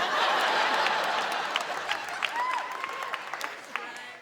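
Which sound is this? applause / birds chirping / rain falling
applause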